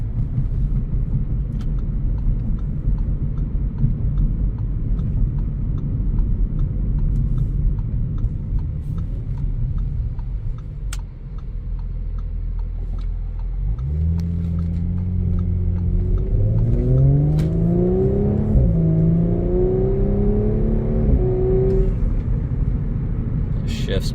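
A 2020 Audi S4 Premium Plus Quattro with the 3.0T engine runs steadily while driving, then its note rises and steps through several smooth revving climbs near the end, under a person talking over the cabin rumble.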